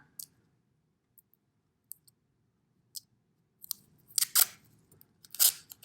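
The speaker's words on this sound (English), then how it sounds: "I'm going to go ahead and tape it down" Tape is pulled from a roll and pressed down onto transfer paper, with a few sharp isolated clicks followed by louder crackling tears and rubbing near the end, close and clear with no talk.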